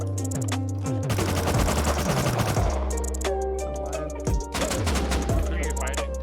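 Rapid bursts of gunfire from explosive ammunition ring out in the survival video game Rust during a raid, loud and dense with overlapping shots, followed by scattered single reports.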